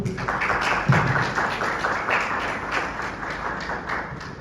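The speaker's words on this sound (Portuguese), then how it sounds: "Palmas, por favor." Audience applause at an installation ceremony in a hall: a steady wash of many hands clapping, moderately loud and continuous throughout, with a few sharper claps near the start.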